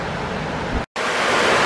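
Water pours over a weir at an old rolling mill in Oughtibridge, a loud, continuous broadband roar heard up close, briefly cut off by a short gap before resuming at full strength.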